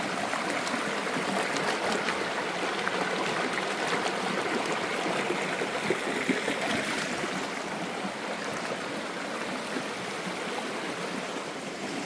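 Steady water rushing in a calm stream current, a dense continuous wash with a fine trickling texture, close and even throughout with no talking.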